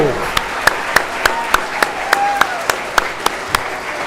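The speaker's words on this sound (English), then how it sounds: "how about a round of applause, please, again, for the band." Audience at a school Veterans Day assembly applauding the band, with steady, regularly spaced claps standing out in a rhythmic pattern over a murmuring room, moderately loud and close.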